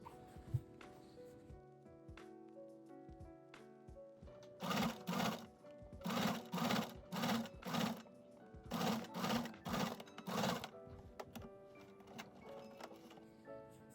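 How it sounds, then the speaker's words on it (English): A sewing machine runs a zigzag stitch along the edge of a corset top, whirring in short, even bursts of a second or so that repeat with brief pauses between them, set against a quiet room. "Finish the raw edge with a zigzag stitch."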